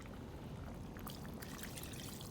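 Cooked lentils are poured into a pot of cabbage sambar, a soft, continuous pour of thick liquid, faint and close, with a few light splashes toward the end.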